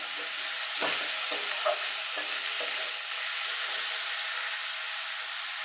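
Boiled drumstick greens stirred into frying potatoes in a pan make a soft steady hiss, broken by a few brief scrapes and clatters from the spoon, faint and with no voices.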